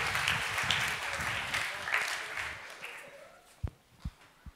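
Audience applause at a regional youth science competition award ceremony in Augsburg, a moderate patter of clapping that fades out, followed by a few isolated thumps.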